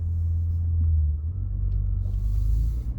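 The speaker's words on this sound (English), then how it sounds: "Wonderful little sound, like a very deep rumble out of that big 12-cylinder" A 2020 Bentley GT Convertible's 12-cylinder engine idles with a deep, steady low rumble, close and continuous, with a faint rise in revs toward the end.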